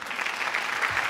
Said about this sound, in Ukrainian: Аплодисменти команді «Козацька вдача».